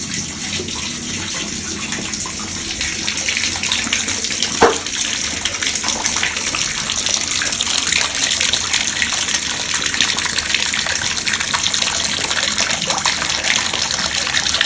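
Bath water runs steadily from a tap into a tub at home, a constant broad gush with no talking, and a single faint knock about a third of the way through.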